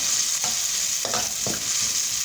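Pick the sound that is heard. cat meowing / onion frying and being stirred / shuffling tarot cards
onion frying and being stirred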